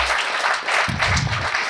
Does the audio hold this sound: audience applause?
yes